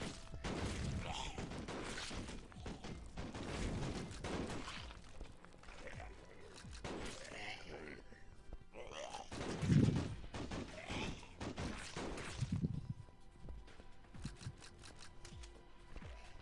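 Gunfire from the mobile zombie shooter Zombie Blast Crew, with dense bursts of shots and impacts running through the whole stretch amid game effects and brief talk.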